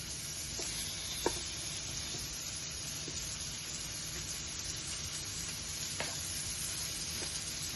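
Onions sizzling in a frying pan, a steady even hiss of frying with a few light taps of a utensil against the pan, and no talking.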